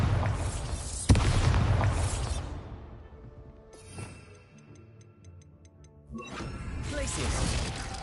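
Bombarda spell explosion in Hogwarts Legacy, a loud booming blast that crashes and rolls off, then fades into quiet ticking mechanical clicks before another swell of rumbling noise.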